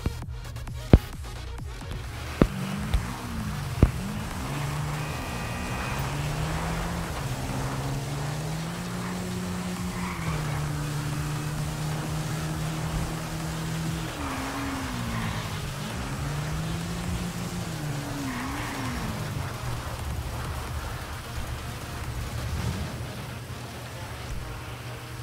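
A car driven in a video game gives a steady, moderately loud engine drone whose pitch rises and falls as it speeds up and slows down, with a few sharp clicks at the start.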